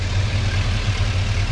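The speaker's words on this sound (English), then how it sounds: "But this is the engine." An LS-swapped square body truck idles steadily up close, a low, even rumble with a gentle pulsing throb and no one talking.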